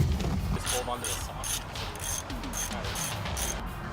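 A car jack clicks and ratchets in a workshop as a Porsche 914 or Volvo 240 is lifted to swap broken soft brake hoses, repeated mechanical clicks in a steady rhythm, moderately close.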